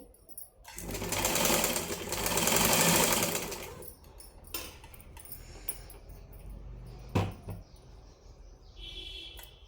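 An electric sewing machine stitches a blouse lining, running in a fast whirring burst for a few seconds, then stopping for softer clicks, fabric handling and short stitch bursts close up.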